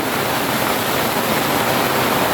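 Heavy rain and wind pour down steadily over a farm area in a storm, a dense, loud, unbroken rushing wash with no voices.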